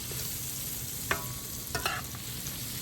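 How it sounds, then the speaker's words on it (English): Onions and bacon sizzle in a pan at a cooking demonstration, giving a steady, faint crackle with a few sharp clinks and scrapes of stirring partway through. "I'm going to just add the onions. I'm going to add your bacon."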